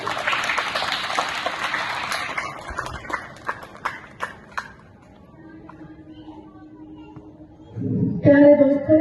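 Clapping from an audience at a Republic Day school event in Yojana Vihar, Delhi, honouring a teacher as chief guest; broadband applause fades into a few sharp separate claps, then a different louder sound with a tone follows.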